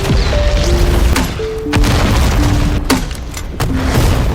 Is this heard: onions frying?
no